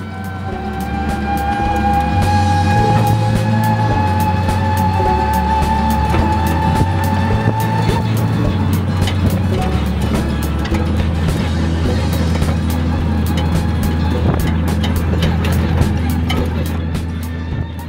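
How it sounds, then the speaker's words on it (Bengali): A toto e-rickshaw runs fast along a road near Canning, giving a loud, steady rumble and rattle of the body with road hum and a whining drone, heard from inside the vehicle. "দারুণ রাস্তা তো, বেশ গতি নিয়ে চলেছে আমার টোটো।"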